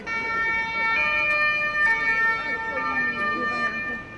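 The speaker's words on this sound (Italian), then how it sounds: "Il suono delle sirene ne precede l'arrivo." A police car siren in Venice wails steadily with a stable, sustained tone during a pursuit, fairly close and loud, while a voice speaks underneath.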